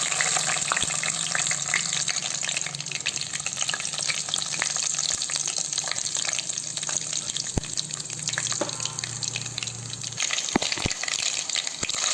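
Mustard seeds, cumin, black pepper and fenugreek crackle in hot oil as tempering for Nellore-style fish curry, a steady hissing sizzle with scattered sharp pops and a low hum beneath, no voices.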